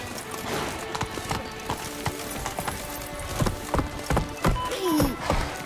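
Hooves of Roach, a horse in The Witcher 3, clip-clop in a quick rhythmic patter, close and fairly loud, with a short whinny near the end.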